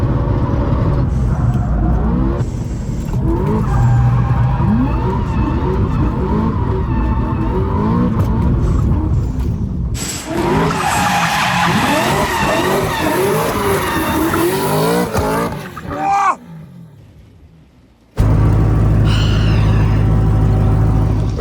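A car drifts through corners with the brakes used to slide, its engine revving and tires squealing and skidding loudly and continuously, before the noise briefly drops away and then resumes.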